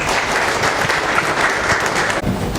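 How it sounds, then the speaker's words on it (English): A lecture audience claps steadily and fairly loudly, a dense sustained round of applause with no voices on top. "So let us give him a round of applause"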